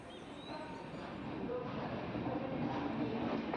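Train rolling into a station, a continuous rumbling roar that builds gradually in loudness with faint rail squeals above, no talking.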